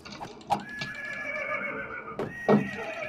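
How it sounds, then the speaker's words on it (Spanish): A horse in a survival video game neighs with a long, loud whinny, then gives a second shorter whinny near the end, with light clopping and game ambience in the background. "¡Un caballo!"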